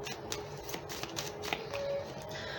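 Tarot cards being shuffled by hand close up, a steady run of soft papery riffles and slaps for a few seconds with no talk, over a faint room hum.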